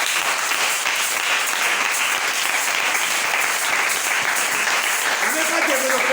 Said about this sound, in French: Ah, on acclame le Seigneur.